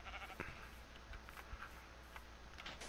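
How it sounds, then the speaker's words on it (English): Sheep bleating in the Minecraft video game, a few faint, brief calls scattered over a steady low background hum, with no talking. "I really hope that was just a sheep."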